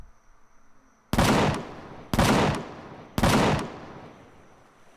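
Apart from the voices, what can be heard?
gun turret firing in Empyrion Galactic Survival video game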